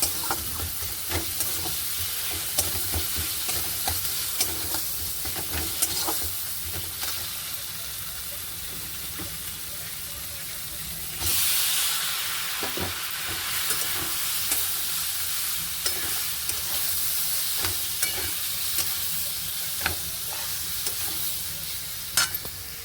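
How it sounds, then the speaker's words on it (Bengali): Nigella seeds and green chillies sizzle in hot oil for a potato curry, a steady frying hiss with scattered stirring scrapes that brightens and grows louder partway through. "কালো জিরে কাঁচা লঙ্কা ফোড়ন দিয়ে আজকে আলু চচ্চড়ি করব"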